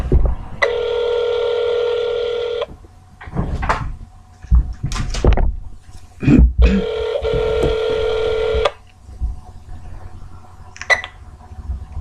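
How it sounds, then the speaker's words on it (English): Touch-tone keypad dialing a landline number: two long steady multi-tone bursts separated by clicks and handset clatter, close and loud, with no voices. "here is a phone call to Clifton Ramey. This will be his landline phone."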